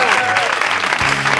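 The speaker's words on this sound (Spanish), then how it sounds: "pedimos un aplauso para todo el mundo" Studio audience on a Spanish comedy talk show breaking into brief, bright applause, with voices mixed in over the clapping.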